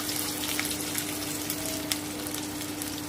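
Onions frying in hot mustard oil in a kadai for kadai chicken, a dense, steady sizzle with a bright crackling hiss throughout, close and continuous, without speech.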